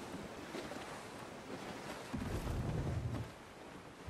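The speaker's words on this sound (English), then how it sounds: "Dude, there's a strong wind now." A strong wind blows at sea aboard a sailing ship in Assassin's Creed IV: Black Flag, a steady broadband rush of wind and waves with a deeper surge midway, and no voices.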